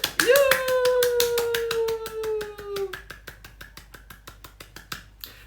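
Sharp hand claps ring out in a steady rapid series at a live fan broadcast, close and crisp, while a voice speaks over the first few seconds and the clapping carries on alone toward the end.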